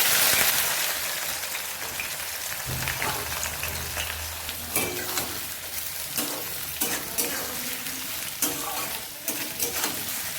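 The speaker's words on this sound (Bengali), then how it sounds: "এখন আমি কাঁচা পেঁয়াজ দিয়ে দিচ্ছি এটার মধ্যে।" Raw onions drop into hot oil with dried red chillies and cloves, setting off a loud continuous sizzle. Sharper scraping stirs break through the sizzle in an irregular rhythm, and no one speaks.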